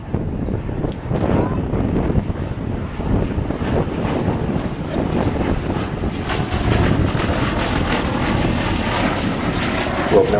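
Hawker Demon biplane touching down at the Shuttleworth season premiere airshow, its engine a steady, loud drone with wind buffeting the microphone throughout and possible faint voices.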